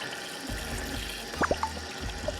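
A single bowl washed under running tap water, a soft steady trickle with a few brief splashes and light knocks near the middle.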